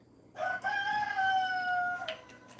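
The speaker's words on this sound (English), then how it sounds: "And my rooster's crowing." A rooster crows once, loud and close, a single drawn-out cock-a-doodle-doo of about two seconds over a quiet rural backdrop.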